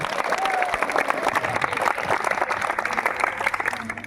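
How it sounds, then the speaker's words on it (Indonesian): School students applauding at a Catholic junior high school morning assembly, loud dense clapping from a crowd close by, continuous throughout. "Tepuk tangan untuk kita semua."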